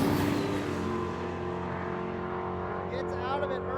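A Swedish team's brand-new drag race car makes its run at a drag-racing event, a loud, sustained engine roar with steady harmonic tones, accompanied by voices talking over it.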